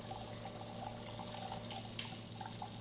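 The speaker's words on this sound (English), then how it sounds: "you see that water coming here, and it starts to drain from the vessel here" Water drains from the vessel of a Jura We8 coffee machine as a faint, steady hiss of running liquid with a couple of soft drips, quiet and close.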